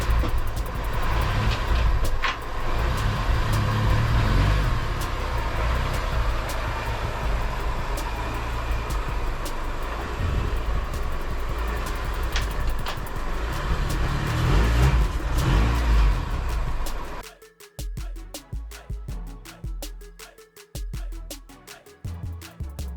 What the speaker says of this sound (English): we got the RSX with the supercharger running